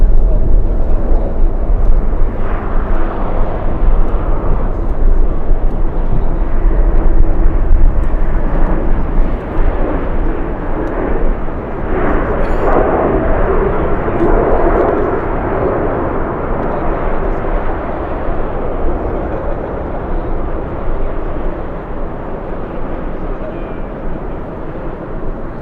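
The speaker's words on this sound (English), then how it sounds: "Let's go for the Volaris landing here in the south. Correction, Viva Airbus." A Viva Aerobus airliner lands at LAX in strong winds, its engine roar broad and steady throughout, mixed with heavy wind rumble and a voice talking over it.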